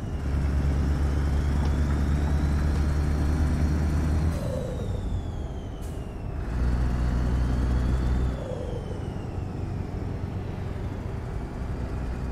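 Simulated Scania truck engine in Euro Truck Simulator 2, a deep steady diesel drone with two revving pushes separated by a brief drop, plus a faint air-brake hiss.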